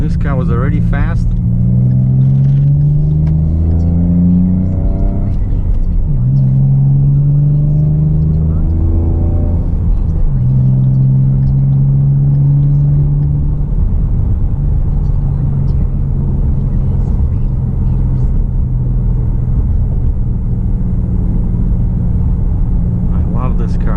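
A tuned 2017 Ford Mustang rumbles loudly while driving, its engine note rising and falling through several revving pulls under continuous talk from people inside.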